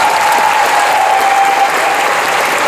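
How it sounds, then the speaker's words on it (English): A convention crowd at Belgian Comic Con applauds during a Q&A with Kevin McNally, loud and sustained clapping from many hands that stays constant throughout. "Give yourself a round of applause."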